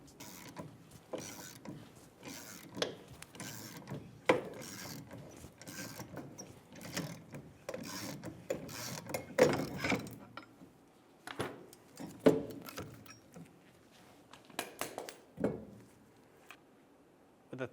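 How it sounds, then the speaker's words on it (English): Rear brake drum on a 2000–2007 Ford Focus being drawn off with a puller spindle bolted to it and held with a pry bar: irregular metallic clicks, creaks and scraping knocks, close and fairly loud, with quieter gaps toward the end. "Start to pull off the drum."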